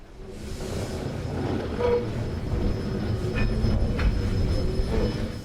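The SA 551 railcar running on the Goldfields Railway in New Zealand, a steady rumble of wheels on rails with occasional thin squeals and metallic clicks, fairly close and continuous.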